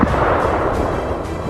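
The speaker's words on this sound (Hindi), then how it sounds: "ये रूस की सेल्फ प्रोपेल्ड आर्टिलरी MSTA है, जिसमें 152 मिलीमीटर की तोप लगी है। ये लगातार यूक्रेन की पोजीशन पर बमबारी कर रही है।" A Russian MSTA self-propelled howitzer with a 152 mm gun fires on a battlefield, one heavy blast followed by a rolling, rumbling boom that fills the short stretch.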